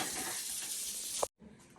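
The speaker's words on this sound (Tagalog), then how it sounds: "Habang merong naghuhugas ang pinggan dito." Dishes being washed under running water from a tap, a quiet, steady hiss of flowing water that stops abruptly near the end, leaving faint room noise.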